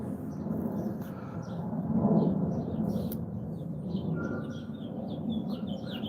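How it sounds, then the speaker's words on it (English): Faint bird chirps scattered over a constant low rumble, like distant jet or traffic noise, with no voices. "Have I been listening to the birds chirp at all?"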